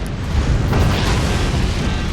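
A nuke self-detonates in the Forts RTS game, a loud, sustained, rumbling explosion that fills the whole moment with deep booming roar.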